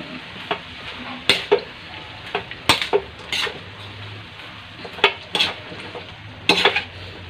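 Vegetables and bean sprouts being stir-fried with oyster sauce, a spatula scraping and clanking against the pan in irregular bursts over a steady low sizzle, with no talking.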